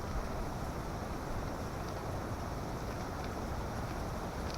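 Strong, cold wind blows across a campsite, a loud steady rushing roar buffeting the microphone without a break, no voices.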